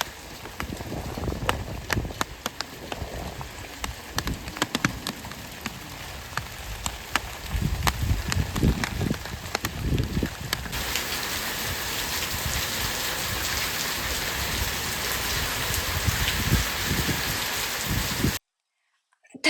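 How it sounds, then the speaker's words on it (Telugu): Steady rain falls on a home garden throughout, a dense hiss of drops with scattered louder patters on a nearby surface, continuing until an abrupt cutoff near the end. "మధురమైన ఆ వర్షపు సౌండ్"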